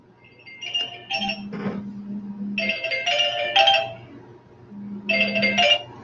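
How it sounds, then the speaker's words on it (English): Phone ringing with an incoming call, a chiming melodic ringtone repeating in bursts, fairly close and clear with no speech over it. "that's what this phone call that you just heard is"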